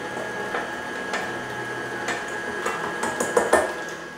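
A stand mixer beats cake batter as flour is added for a currant and orange cake, giving a steady running hum with irregular clicks and knocks of the beater against the bowl.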